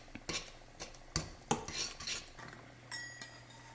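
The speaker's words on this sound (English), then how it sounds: "I'm just gonna mix it on in here." A spoon stirs matcha into berry oats in a bowl, giving a quick run of close, sharp metallic clinks and scrapes against the dish, fairly quiet overall with no talking.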